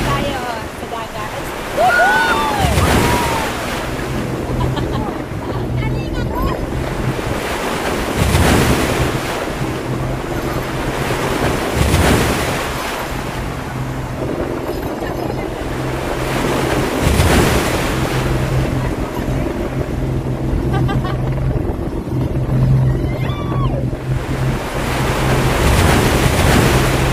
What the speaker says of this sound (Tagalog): Medyo malakas na ang alon dito sa Open Pacific po.